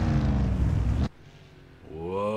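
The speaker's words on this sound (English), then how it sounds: "you can hear those Mustangs revving" Ford Mustangs rev at the Grand Touring Cup race at Watkins Glen: a loud engine roar cuts off abruptly, then after a quieter gap another engine climbs in pitch as it revs up.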